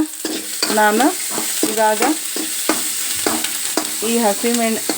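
Chopped dill greens and lentils sizzle loudly in a pan while a spatula stirs and scrapes, giving off short squeaky rubbing sounds in an uneven rhythm.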